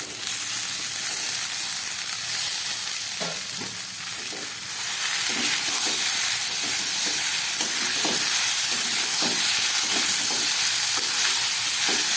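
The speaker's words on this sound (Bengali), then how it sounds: "এবার এই সিদ্ধ করে রাখা এঁচড়গুলো এর মধ্যে আমি দিয়ে দিচ্ছি।" Boiled jackfruit is added to sautéed potatoes in a pan, where it sizzles and fries steadily while a spoon stirs and scrapes in scattered strokes; no talking.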